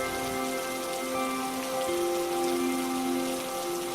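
Steady rain falls continuously, a dense even hiss of drops striking surfaces throughout, with faint sustained tones beneath and no voices.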